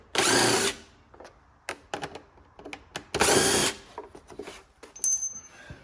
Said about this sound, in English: Take a screwdriver or a 1/4 inch socket.